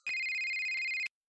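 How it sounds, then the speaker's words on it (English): A single electronic phone ring from the inFamous video game, a steady bright tone lasting about a second and then cutting off abruptly, clear and alone with no talk. "Moya calls him on his phone"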